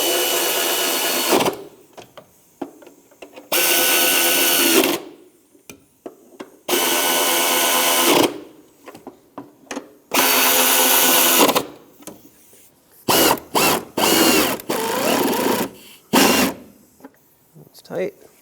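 A power tool runs in several long bursts while tightening bolts around a 1997-2001 Lexus ES 300 engine during timing belt and water pump work, loud and close, with quicker short pulses toward the end.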